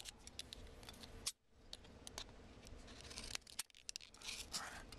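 A scrap piece of material is cut down for small-scale terrain, the blade making close, quiet snips and crunchy cuts with brief pauses between strokes.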